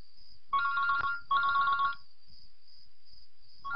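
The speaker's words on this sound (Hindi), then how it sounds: "फोन कहाँ बज रहा है?" A phone rings indoors with two clear electronic ring bursts, each about three-quarters of a second long, separated by short gaps, and a third ring just starting at the end over a faint steady tone.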